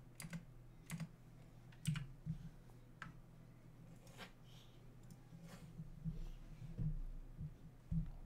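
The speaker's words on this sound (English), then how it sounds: "you're sitting on the keyboard" Someone sits on a computer keyboard, pressing keys in irregular, faint clicks and clatters scattered over a low background hum.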